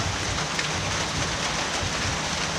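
Steady, heavy rain pours down continuously, a dense wash of patter on surfaces with no voices.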